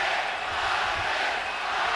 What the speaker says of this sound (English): Crowd is chanting Marquez, Marquez, Marquez, trying to get their star started early